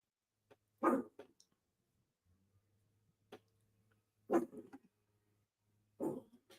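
A dog barks in short separate bursts, three or four loud barks spaced a couple of seconds apart with quiet gaps and a low hum between them, no talk.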